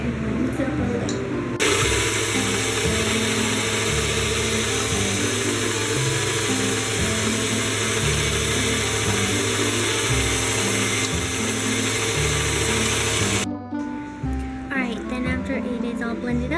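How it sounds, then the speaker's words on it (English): An electric mixer churns cookie dough with melted butter, a loud steady motor whine with rattling gear texture that runs for about twelve seconds before cutting off, with brief quieter handling noise at either end. "I'm going to take it over to my mixer and I'm going to mix it up really good"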